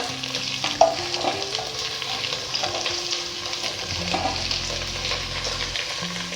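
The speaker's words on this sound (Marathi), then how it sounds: "वाटाणा हे चांगलं ह्या तुपामध्ये परतून घ्यायचं" Chopped vegetables, beetroot, cauliflower and peas for pav bhaji sautéed in ghee over a high flame, a loud steady sizzle with stirring scrapes and a sharp clink near the start.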